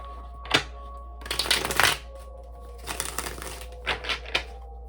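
Tarot cards shuffled by hand in several quick riffling bursts, crisp papery flutters separated by short pauses and a few soft taps, close and alone over a low steady hum.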